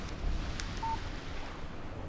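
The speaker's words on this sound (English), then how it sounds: "Text message from Barry." A phone in the Alan Wake video game plays a text message alert, a single short, faint beep over a steady wind-like hiss.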